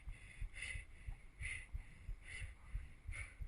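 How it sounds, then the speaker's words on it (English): In a video game, the heartbeat of Tim, lying on the ground, thumps in a slow, regular lub-dub rhythm, faint and muffled, with a soft high ringing tone pulsing alongside each beat. "when he's laying on the ground, you can hear his heartbeat"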